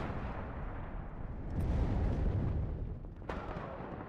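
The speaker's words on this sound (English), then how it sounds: "Your artillery is doing good work." Artillery in the wartime strategy game WARNO: a continuous roar of distant shelling swells into heavier booming, with a sharp crack near the end, no voices.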